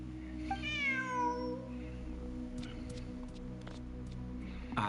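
A cat meows in the Genshin Impact video game, one rising-then-falling meow near the start over a steady humming game soundtrack, followed by faint ticking.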